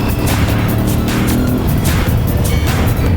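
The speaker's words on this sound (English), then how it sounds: "Try and roll the throttle on the fourth at 60 k's on dirt" Aprilia Tuareg motorcycle, a sub-725cc adventure bike, accelerating on dirt at around 60 km/h in fourth gear, a loud continuous engine roar with wind rush and a slight rising pull, close and unbroken.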